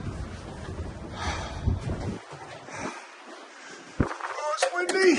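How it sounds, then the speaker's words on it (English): Wind at the plover hide at Rutland Water Nature Reserve blasts the microphone in heavy, uneven gusts, the low roar dropping out briefly before surging back, with people talking. "Oh, it's windy!"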